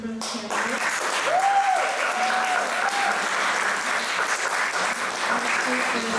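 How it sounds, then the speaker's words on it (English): A seated audience at a 2024 student senate candidate debate applauds steadily for several seconds, a sustained even patter of many hands with a brief voice heard over the start. "Applause for this group of candidates."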